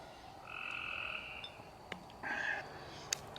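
Frogs croak in two sustained, buzzy trills, one longer then one shorter, with a few faint clicks between them against quiet outdoor background.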